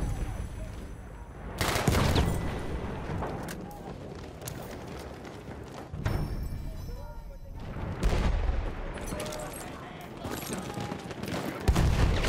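Sustained bursts of machine gun fire and explosions in the World War I shooter game Battlefield 1, dense and loud in several waves, with scattered booms throughout.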